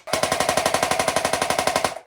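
An AUG rifle firing rapidly in one sustained burst, about twenty sharp evenly spaced reports over two seconds, loud and close with no talking over it.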